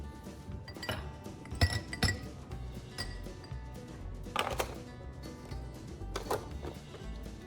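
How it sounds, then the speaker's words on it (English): Frozen blueberry ice cubes are dropped into a drinking glass, giving several light, close clinks and taps that come in small clusters, with no voices. "drop a few blueberry ice cubes into your glass"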